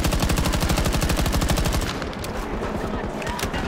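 Rapid automatic gunfire in Battlefield 2042, a loud, fast, steady burst of shots for about two seconds, then more scattered, quieter shots and battle noise.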